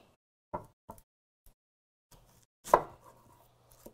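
A knife chops tomatoes and onion finely on a board, giving a handful of separate, close-up thuds spaced irregularly with quiet gaps between, the strongest knock coming near the end.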